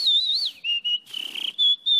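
A person whistles a short, clear, high tune of sliding and held notes with brief breaks, close and fairly loud, with no talking.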